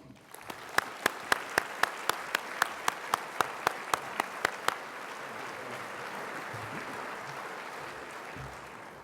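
Crowd applause in a large auditorium greeting Admiral Bob Inman: a dense, steady wash of clapping, with sharper individual claps standing out in the first half, that carries on loud and unbroken to the end.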